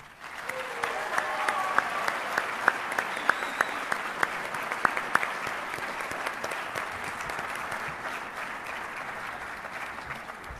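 Audience at a student service awards ceremony applauding steadily, a soft even wash of clapping heard from a distance with a few sharper claps standing out.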